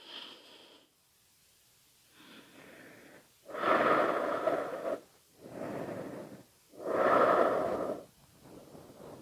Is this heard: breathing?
yes